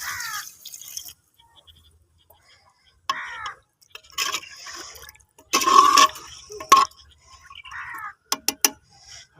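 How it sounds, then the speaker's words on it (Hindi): Water is poured into chicken curry (chicken panje) cooking in a pot, heard as several short splashy bursts separated by pauses, with bright chirping tones in between. "इसके साथ ही हम इसमें हल्का सा पानी ऐड कर देंगे।"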